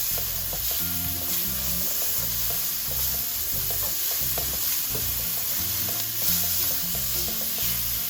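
Onion and tomato frying in oil in a pan, a steady loud sizzle with rhythmic stirring scrapes throughout, close and continuous with no talking.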